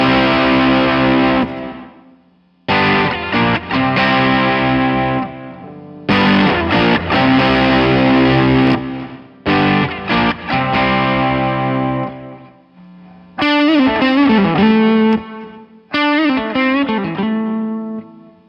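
Distorted electric guitar runs through a fuzz pedal at the front of a pedalboard chain, with a volume pedal before it. Loud sustained chords come in separated bursts with short gaps, then later phrases swell in with bent, wavering notes; no talking.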